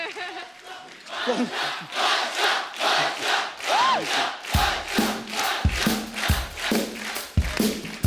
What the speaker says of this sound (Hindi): एक बार बादशाह के लिए जोरदार तालियां।